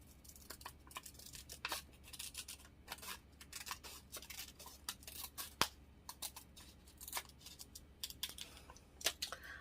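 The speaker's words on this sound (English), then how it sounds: "I'll just cut this down really quickly" Scissors cut paper for a junk journal, a quiet run of quick, close snips and crisp paper rustles repeating irregularly with short pauses.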